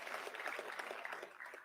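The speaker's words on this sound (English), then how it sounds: "So we can have some more applause here for the second gold medal" A college annual day crowd applauds a second gold medal, steady faint clapping from a distant audience with no talk over it.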